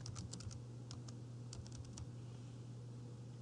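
Someone types on a computer keyboard in quiet, irregular bursts of light clicks under a steady low hum, with no speech.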